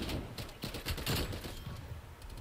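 Rapid bursts of Tech-9 submachine gun fire in the shooter game Black Ops Cold War, dense overlapping shots with sharp peaks, loud and close throughout, no talking.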